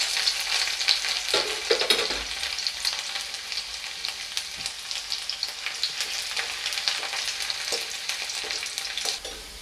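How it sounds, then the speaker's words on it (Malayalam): Garlic frying in a pan for a Kerala inchi curry: steady, loud, close sizzling throughout with occasional stirring scrapes. "അടുത്തത് നമ്മൾ വെളുത്തുള്ളി ഇട്ടൊന്ന് മൂപ്പിച്ചെടുക്കുക."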